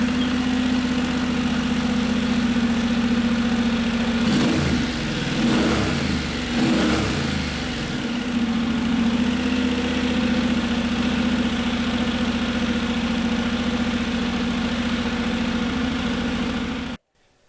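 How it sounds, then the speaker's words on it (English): A Honda NC750X motorcycle engine with 80,000 on the clock idles steadily and close up while warming to temperature, with a brief rev partway through, then cuts off at the end. "start the engine and bring it up to temperature"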